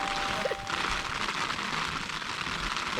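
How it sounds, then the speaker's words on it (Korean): Rain falls on a tent in a steady, soft patter of countless small drops, heard from inside at moderate loudness with faint crackly taps and no voices. "빗소리입니까? 네."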